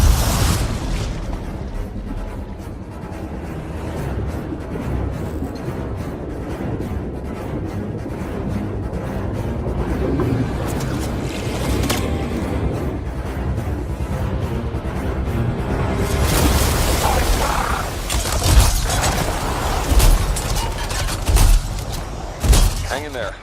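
Gunfire and explosions in a video game, with muffled booms, thumps and bursts of fire rumbling under a low drone, building to louder, sharper blasts toward the end, while voices speak now and then.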